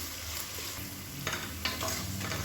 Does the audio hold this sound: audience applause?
no